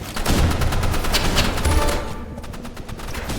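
Rapid automatic gunfire in a Roblox shooter game, loud and sustained bursts of close shots that ease slightly toward the end, with no talking.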